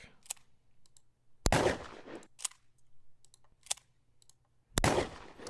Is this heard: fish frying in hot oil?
no